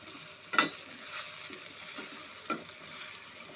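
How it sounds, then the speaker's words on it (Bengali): Chicken stirred in a hot pan with hot chili powder and Kashmiri chili powder, giving a soft, close sizzle with a few scraping strokes of the spoon against the pan, quiet and without talk. "দিয়ে দেবো কাশ্মীরি লঙ্কার গুঁড়োর সাথে ভালো মতো করে চিকেনটাকে মিশিয়ে নেব"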